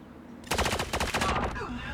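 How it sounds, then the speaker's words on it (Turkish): A rapid burst of sharp, loud sniper rifle shots in a video game rings out in quick succession, then fades, with a faint voice in the background. "keskin nişancı sesi mi o ya?"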